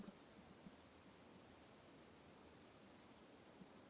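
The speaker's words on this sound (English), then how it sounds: "it just sounds like cicadas" Cicadas in the game Nancy Drew: Ghost Dogs of Moon Lake, a faint, steady high-pitched drone holding without break over a quiet outdoor background.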